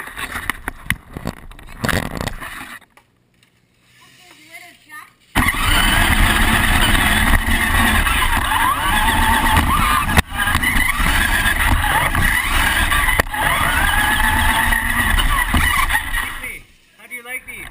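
A monster truck revving hard and skidding sideways, its engine roaring loudly and continuously with brief gaps, while people talk over it.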